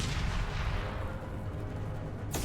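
A high-impact shot from a heavy weapon in the Mass Effect 2 game, a loud, dense booming blast that rumbles continuously through the whole stretch before cutting off sharply at the end.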